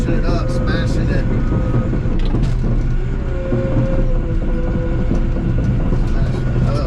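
Bulldozer grousers crunching and smashing road base rock during road construction, a steady loud rumble of heavy machinery with grinding, crackling rock texture throughout.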